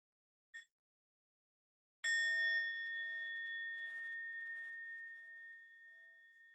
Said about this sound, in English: We'll start with one sound of the bell.